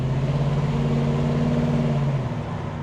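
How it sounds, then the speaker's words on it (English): A 1975 Pontiac Trans Am with its 455 cubic-inch V8 accelerates, a loud, steady engine drone whose pitch holds and then drops slightly as the throttle eases, close to the microphone. "As I begin to lean into this accelerator pedal, it's really happy."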